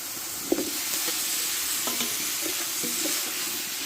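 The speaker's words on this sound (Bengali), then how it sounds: "এবার কষে রাখা এই সবজিগুলো ঢেলে দেবো" Drumstick and taro pieces stir-fried in a pan, with a steady sizzle and irregular scraping strokes of a spatula, close and moderately loud with no voices.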